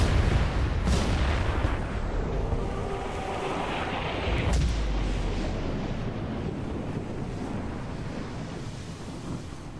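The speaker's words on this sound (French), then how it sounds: "Voilà, l'explosion qui a rendu la couleur à la ville." A large explosion in the video game The Saboteur, a deep low rumble with a sharp burst around the middle, rolling on under steady roaring noise with no voices.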